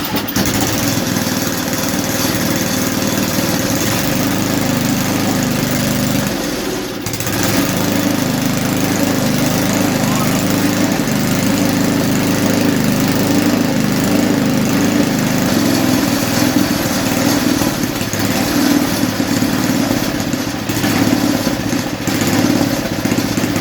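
A 1977 Toro snowblower engine runs loudly up close, a steady buzzing drone that dips briefly around a third of the way in, then picks back up and holds.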